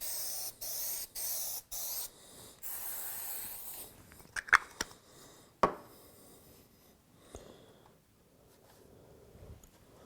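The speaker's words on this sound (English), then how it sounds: "put spray adhesive on the back of the board." Several short hissing bursts of spray adhesive from an upside-down aerosol can, followed by scraping, tapping and handling noises at a moderate distance, while gluing the back of a board.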